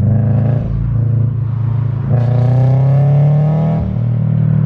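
A Subaru BRZ at full throttle, its engine note climbing steadily with a short break near the middle, loud, close and continuous with no talking.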